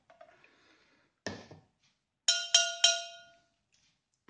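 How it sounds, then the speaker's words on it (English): A drinking glass with a little water added is struck, giving three clear ringing tones in a row, each a bright pitched chime that decays over a fraction of a second, after a faint earlier tap. "Now listen to what happens if I put a bit of water into that glass, put water in, and the note goes down."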